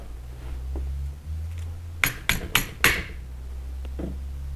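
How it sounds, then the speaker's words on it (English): A pin is tapped into a Beretta A300 Outlander shotgun trigger assembly: four sharp metallic taps in quick succession stand out over a low steady hum, followed by a fainter click. "Get your pin started. Takes a little bit to line it up."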